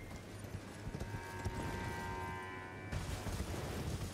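Horse hooves clip-clop steadily in Elden Ring: Shadow of the Erdtree as a rider trots along, the rhythmic footfalls close and moderately loud over a game music bed, and the ambience brightens near the end.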